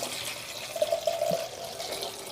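A quiet, steady stream of water being poured into a container, soft and close.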